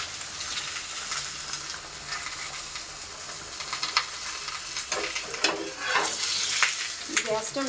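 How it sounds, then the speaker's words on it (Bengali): Flatbread roti frying in hot oil on a gas stove, a steady loud sizzle with bursts of crackling and spatter toward the end, no voices. "প্রায় হয়ে গেছে তেলে ভাজা রুটি"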